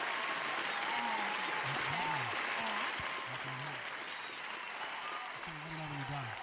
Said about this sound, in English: I like the little applause button that you can press.